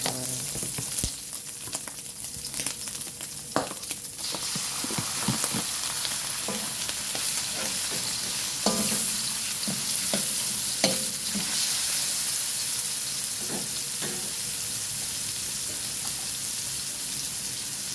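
Liver frying in a pan for pancit bihon, a steady sizzle with intermittent scraping and stirring clinks, close and moderate in level throughout.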